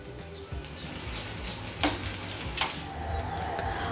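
A rice bhakri roasts on a griddle with ghee, a low steady sizzle with a couple of brief sharp scrapes or taps of a spatula; faint bird chirps sound in the background.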